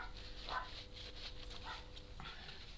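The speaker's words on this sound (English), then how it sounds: "Now the dogs across the road are barking." Dogs bark across the road, faint and distant, with a few short barks and whimpers over a low indoor hum.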